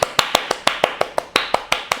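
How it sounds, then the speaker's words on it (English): A seated chair yoga participant gives a round of brisk, even hand claps, about a dozen crisp smacks close to the listener, with no voice over them. "Give yourself a big clap."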